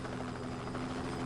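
A helicopter in a video game gives off a constant loud rotor buzz and whir with an even, unbroken hum throughout.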